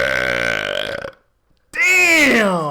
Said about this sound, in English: That was a squatch burp.